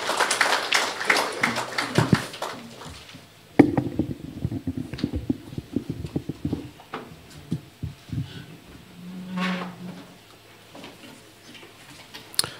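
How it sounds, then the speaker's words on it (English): A conference audience in Bulawayo applauds the provincial minister: a stretch of dense, steady clapping from a crowded hall, rising and tapering with scattered claps, near and fairly loud, with no talk over it. "Let's give our minister another huge round of applause as she welcomed us into her province."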